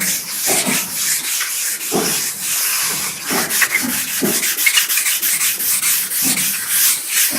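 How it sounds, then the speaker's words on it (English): Close sanding block with 400-grit paper working guide coat off a classic Mini van's panel, steady back-and-forth rasping strokes in an even rhythm, no talking. "So I've just sanded off that guide coat with some 400 grit"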